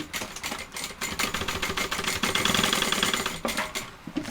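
A sewing machine runs steadily, topstitching along a shoulder bag seam an eighth of an inch from the edge, a close, even mechanical whirr with fast needle ticking that holds for several seconds before easing off.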